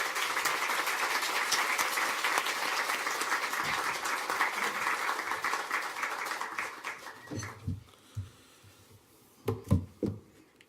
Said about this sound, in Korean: 목사님 나오실 때 우리와 같은 박수로 환영하겠습니다